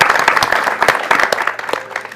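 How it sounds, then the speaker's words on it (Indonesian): A studio audience at a live television broadcast claps throughout, with distinct individual hand claps forming a lively, close applause that tapers slightly toward the end. "Oke, tepuk tangan dulu."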